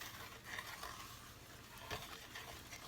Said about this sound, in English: Get this mixed up without getting flour everywhere